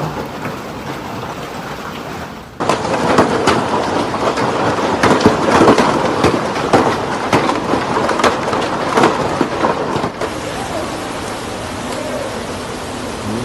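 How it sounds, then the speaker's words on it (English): A major hailstorm in Johannesburg pounds down as a dense, loud, continuous roar of ice hitting surfaces, surging sharply at one moment, with no clear thunder. "A major hailstorm hit parts of Joburg, damaging property, cars, city infrastructure and leaving roads covered in piles of hail."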